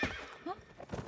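A horse gives a short, bright whinny close by, mixed with faint hoof clip-clop in a quiet setting.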